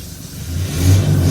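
A Toyota Revo pickup engine fitted with a Dino Box Raptor electric throttle controller, set to sport mode, revs up briefly from idle, its close mid-pitched roar swelling within about a second, with no speech.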